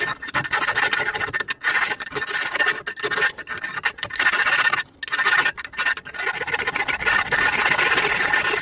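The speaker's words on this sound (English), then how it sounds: "I just have a round rasp" A round rasp files steel exhaust tubing in rough, rhythmic strokes, loud and close, with short pauses between bursts of grating metal.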